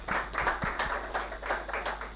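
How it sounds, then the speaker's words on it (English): Audience applause after a speaker finishes at a policy event on alternative energy: a steady, dense patter of many hands clapping at moderate volume, with almost no voices. "Another round of applause for her, please"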